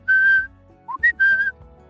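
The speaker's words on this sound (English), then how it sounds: "held her hand up to her mouth and made a whistling noise" A person whistles a few short notes: one long tone, a pause, then a quick rising chirp and two more held notes, close and clear.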